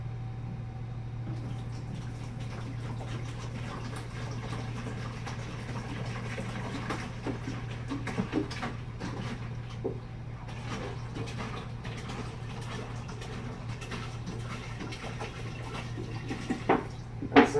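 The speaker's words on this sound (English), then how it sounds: "Cold water for your base. So I'm gonna fill it up to" Cold tap water runs into a container for home brewing, a steady soft pour over a low constant hum, with a few light clatters near the end.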